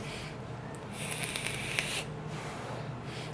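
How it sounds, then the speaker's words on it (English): A spray bottle lets out a single soft hiss lasting about a second, rising above a low, steady room background. "Get the spray bottle."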